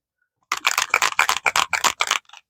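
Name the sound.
spraying a face mist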